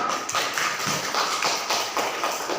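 Applause for a student group after its presentation at a teacher certification session at Universitas Negeri Malang: dense, continuous clapping from many hands in a room, steady and fairly loud with no voices over it.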